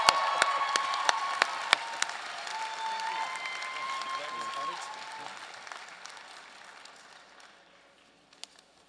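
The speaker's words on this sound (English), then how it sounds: "So let's give Michael Bradley Taylor a round of applause." Convocation audience at a law school ceremony clapping for a graduate speaker, with crisp individual claps at the start filling into steady applause that gradually fades over several seconds, some voices faintly underneath.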